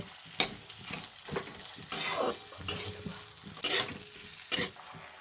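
Chopped tomatoes with a little salt fry in a pan while being stirred, giving repeated scraping bursts over a steady close sizzle, with no voices.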